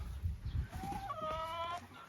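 Chickens cluck in a backyard coop, with low rustling and scratching at first, then a nearby hen's rising, drawn-out call over soft background clucks.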